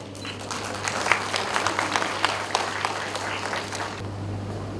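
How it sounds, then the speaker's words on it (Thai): Audience applause at a regional round of Thailand's national skill competition in Songkhla, a steady roomful of clapping lasting about four seconds over a low constant hum, then cutting off. "ขอเสียงปรบมือด้วยค่ะ"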